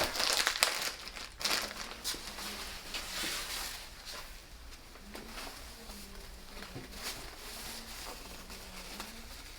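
A paper neck strip and a hair cutting cape are draped over a barber mannequin, giving soft crinkling and rustling of paper and fabric, brief and close, then quieter shuffling.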